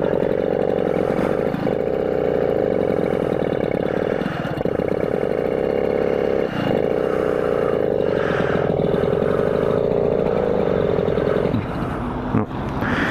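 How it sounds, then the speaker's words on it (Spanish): A motorcycle engine with faulty ignition is cranked repeatedly, with loud, steady starter whirring broken by short pauses but never catching, then a brief clatter at the end. "No va a haber manera de hacer andar este motor, tío."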